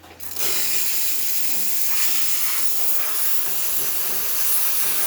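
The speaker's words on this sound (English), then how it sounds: "Now we're gonna be testing the steamer." An espresso machine steam wand hisses loudly and steadily from start to finish, a continuous broadband rush of escaping steam.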